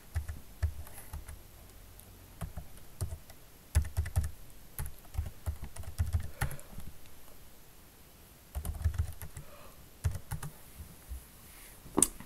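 Numbers are typed on a computer keyboard in quick bursts of close, light clicking keystrokes, separated by short pauses, in an otherwise quiet room.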